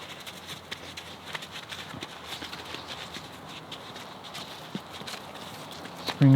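Scattered soft hoof thuds and scuffs as a horse shifts about on the ground, irregular and fairly quiet against outdoor background.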